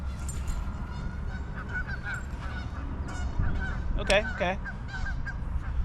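Geese honking in a loose group at a lakeside fishing spot, scattered calls that build to a loud burst of overlapping honks near the end, set against outdoor background noise, with a brief spoken word.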